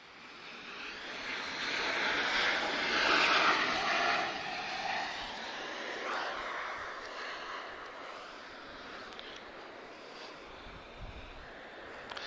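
Airplanes at Lisbon Airport, with a loud jet engine roar that swells and then slowly fades into a distant rumble. Wind noise sits underneath.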